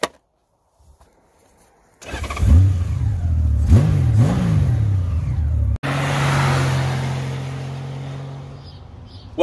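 A Honda Goldwing motorcycle starts after a near-silent pause, its engine blipping and revving in a few rising bursts, then settling into a steady, close running note as it sets off for a ride, with no talk.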